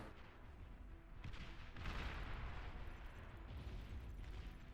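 Artillery units fire in Beyond All Reason, rolling distant booms and rumbling impacts that swell midway into a dense, sustained barrage, quiet overall with no talk.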